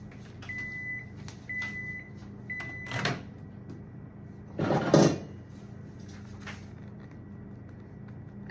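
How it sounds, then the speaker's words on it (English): A kitchen microwave oven is set for a short run: three short beeps as it is programmed, then thudding door and handling sounds over a faint steady hum, with no talk. "I'm gonna pop it in the microwave for 20 seconds."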